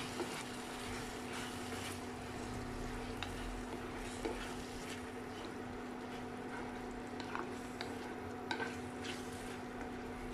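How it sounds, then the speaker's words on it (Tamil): Cooked dal being stirred into vegetables in a pan, giving a steady close scraping and soft liquid churning over a continuous low sizzle and stove hum throughout. "போட்டு இதை நல்லா மிக்ஸ் பண்ணி விடலாம்."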